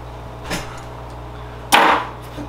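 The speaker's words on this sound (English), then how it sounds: "I'm gonna go ahead and trim that trunk off now" Cutting tool severing the trunk of a Premna or Gmelina bonsai: two sharp, close woody snaps, a lighter one followed about a second later by a louder, cracking cut, against a quiet room background.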